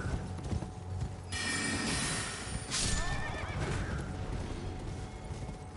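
A horse in the video game Elden Ring whinnies loudly twice while hooves clip-clop steadily beneath, set against a dense backdrop of game ambience.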